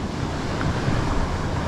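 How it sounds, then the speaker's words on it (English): Ocean waves break on the shore in a continuous, loud wash of surf and roar, with wind buffeting the microphone. "today with all this wave action"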